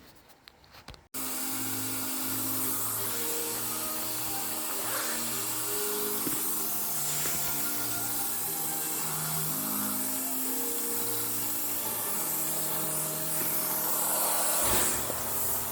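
A spray gun applying varnish gives a steady hissing spray that runs continuously after a sharp start, with a motor-like drone and tonal hum underneath throughout.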